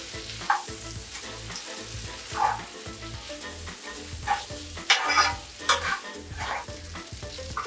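Lobster pad thai with egg being stir-fried over high heat, a steady sizzle with repeated scraping and stirring clatters of the utensil against the pan, close and alone.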